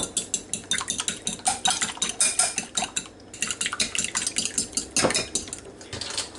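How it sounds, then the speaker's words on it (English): Egg being beaten in a bowl for salmon patties, a fork or whisk clicking against the bowl in quick rhythmic bursts with a brief pause midway, close and fairly loud, no talking. "First thing I'm going to do is we're going to beat up our egg."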